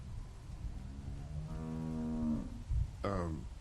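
Cow mooing in The Walking Dead video game, two drawn-out moos over a low background hum, the second shorter and rising, close and clear with no talk.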